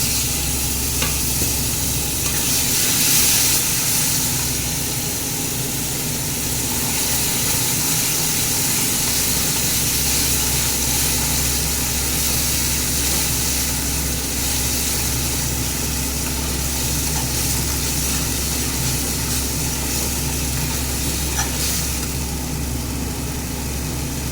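Spice paste of ground pepper, salt and turmeric frying in a pan, a loud continuous sizzle close up with a steady low hum underneath and occasional stirring, no talk.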